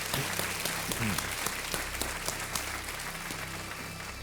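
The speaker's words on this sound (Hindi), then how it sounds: "एक बार फिर राजीव मखनी जी के लिए जोरदार तालियां।" Studio audience applause on a televised quiz show, a dense, steady wash of clapping that fills the room at close range, with no talk over it.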